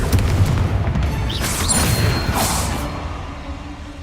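A Confringo fire spell explodes in the Hogwarts Legacy video game, a single loud booming blast with a crashing burst that rumbles and fades over a few seconds, heard alone.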